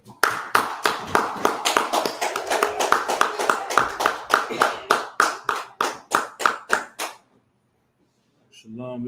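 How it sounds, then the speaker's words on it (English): Distinct, steady claps sound for about seven seconds, a sharp rhythm that thins to separate claps before dropping into silence, with a voice starting right at the end. "Let's go ahead, clap it up."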